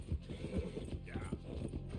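A horse gallops in the Red Dead Redemption 2 video game, its hooves drumming in a quick uneven rhythm alongside creaking tack and rattling gear, at a moderate, fairly quiet level.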